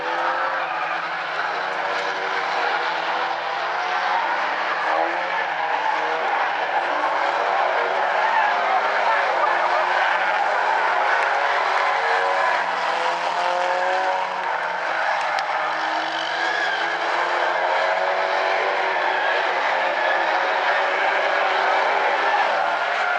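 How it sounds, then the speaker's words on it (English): Stinger 8 race cars racing around South Sound Speedway, a continuous roar of engines with shifting pitch from multiple cars, tire noise mixed in, sustained and loud with no pauses. "and now Chris Brandon's coming up, starting to get up onto that rear bumper of Dalrymple"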